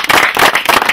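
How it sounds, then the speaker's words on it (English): Dense, continuous clapping from a church crowd at a prophet's meeting, many hands beating at once in a loud, steady wash with no clear pauses. "Are you not clapping for Jesus Christ?"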